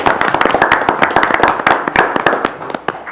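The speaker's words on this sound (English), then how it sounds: "I would ask that you join me in a gentle round of applause welcoming him into executive leadership and fellowship." A round of applause at a city council meeting, many hands clapping close by in a dense, steady patter for about three seconds, with no voices over it.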